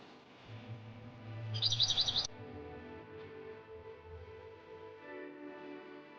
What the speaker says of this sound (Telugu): అవి దాహంతో కిచ్ కిచ్ కిచ్ కిచ్ అని అరుస్తున్నాయి